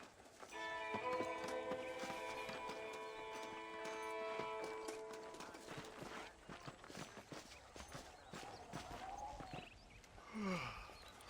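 A horse's hooves clip-clop in a steady walking rhythm in the Western video game Red Dead Redemption, quiet and mid-distance. Sustained musical tones sound early on, and a brief voiced sound comes near the end.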